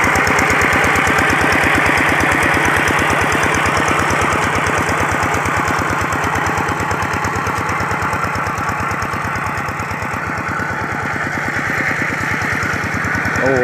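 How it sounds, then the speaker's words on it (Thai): A walk-behind rice seeding machine's engine runs steadily and loudly for the whole stretch, a close, continuous chugging drone with a rapid, even firing rhythm and no pauses. "การหยอดข้าวโดยเครื่อง หยอดครับ"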